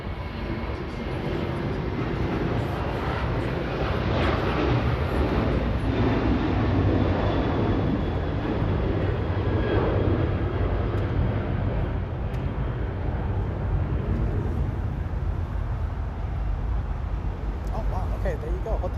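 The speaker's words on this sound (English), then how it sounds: "We'll definitely see the A380 exit 25 left" An Airbus A380 airliner rolls off runway 25 left at LAX onto a high-speed taxiway, its engines a steady, broad roar heard from a distance that holds without break for the whole stretch.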